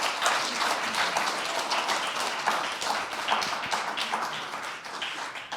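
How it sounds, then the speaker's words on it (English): Audience applause after a presentation at a talk: steady, dense clapping from many hands, sustained and fairly loud throughout with no voices breaking through. "let's give them a round of applause for their presentation"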